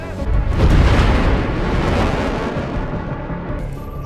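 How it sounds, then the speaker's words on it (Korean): Newly opened coal mine collapsing in a film scene, a huge deep rumbling roar that swells in the first second, holds loud and heavy, then slowly eases while still booming. "엄청난 굉음과 함께 새로 열린 탄광이 무너져 내리기 시작합니다"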